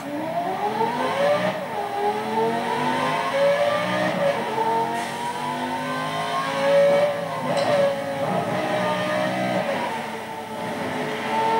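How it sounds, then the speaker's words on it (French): A high, whining V8 engine revs steadily in Need for Speed Most Wanted, pitch climbing and dipping in smooth sweeps, loud and continuous throughout with a synthetic, game-like tone. "le moteur V8 est très aigu"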